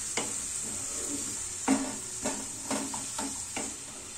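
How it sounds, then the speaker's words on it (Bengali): Peas, poppy seeds and other ingredients fry in a pan with a soft continuous sizzle, punctuated by several sharp scraping strokes of a spatula stirring at irregular intervals, close and fairly quiet. "সমস্ত উপকরণগুলো খুব ভালো করে আমি ভেজে নিচ্ছি"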